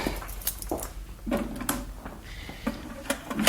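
A filing cabinet drawer being opened as a radio drama sound effect, with a few quick sliding and knocking sounds close by and alone, no talk.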